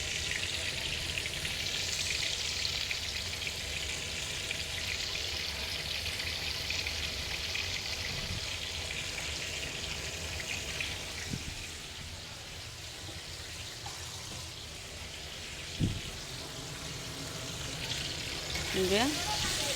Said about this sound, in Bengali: যে শিং মাছটা আমি ভেজে নেব ভালো করে।